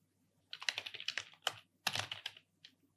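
Quick bursts of keystrokes on a computer keyboard as a WordPress admin address is entered in a browser's URL bar, several clustered clicks in three groups, close and crisp with no talking.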